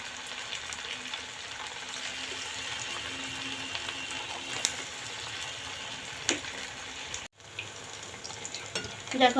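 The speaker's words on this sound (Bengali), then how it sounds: "আস্তে আস্তে গ্যাস আস্তে করে দিয়ে ভেজে নেব দেখো" Semolina vegetable chops fry in oil over a low gas flame, giving a steady close sizzle and bubbling hiss with a brief dropout and a few light utensil clicks near the end.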